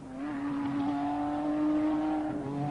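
A Cosworth turbocharged Formula One car at full race boost on the wet Donington circuit in winter, its engine holding a steady droning note at a fair distance, with a slight swell in the middle.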